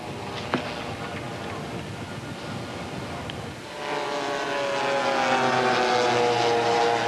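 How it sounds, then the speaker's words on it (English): A Boeing B-29 bomber and other warbirds fly past at an air show, a deep droning propeller roar that swells louder and fuller toward the end as the aircraft come closer overhead. "a bunch of big airplanes with those growling sounds chasing each other around the sky"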